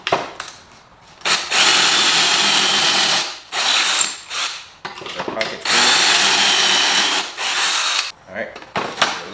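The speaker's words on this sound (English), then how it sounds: "Comes with this drill bit, and you make your holes." A drill boring pocket holes through a Kreg pocket hole jig in wooden boards, several loud whirring bursts of a few seconds each separated by short pauses and clicks.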